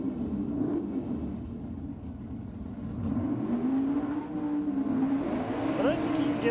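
A Valiant drag car engine at the Gulf Western Oil Nitro Champs rumbles steadily and loud for several seconds, its pitch rising and falling as it revs, with commentators talking over it throughout.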